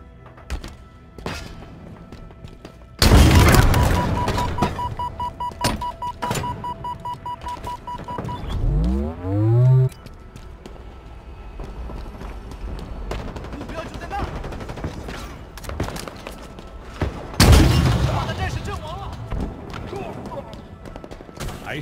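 Gunfire from the Halo Infinite video game erupts in loud rapid automatic bursts with sharp single shots, separated by quieter stretches holding scattered pops and a rising electronic sweep.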